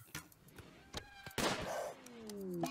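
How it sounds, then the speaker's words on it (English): A single sharp gunshot rings out in the colony game RimWorld during a jungle hunt on a wild boar, one loud crack midway amid sparse clicks and quiet game tones. "Gunshot."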